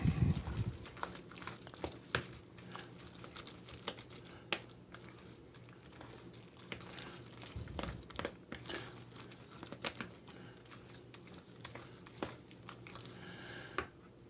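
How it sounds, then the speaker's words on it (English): Guacamole is stirred in a bowl, making soft wet squelching and mashing sounds with faint scraping. The stirring carries on steadily and quietly close by, with no talking. "Stir, stir, stir."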